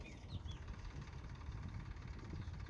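A tractor runs in a farm field, a faint, steady low engine rumble heard from a distance with no talking.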